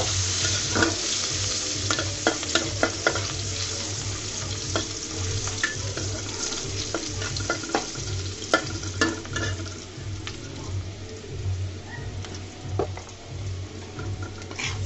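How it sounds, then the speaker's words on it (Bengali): Chopped onions frying in hot oil, with a constant crackling sizzle and repeated spatula scrapes against the pan, close and steady for the whole stretch. "দিয়ে দিলাম পেঁয়াজ কুচি। পেঁয়াজ কুচিগুলোকে হালকা করে আমি ভেজে নিব।"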